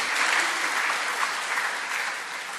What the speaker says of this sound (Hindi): आप लोग ज़ोरदार तालियों से मोहतरम राजेश रेड्डी साहब का इस्तकबाल करें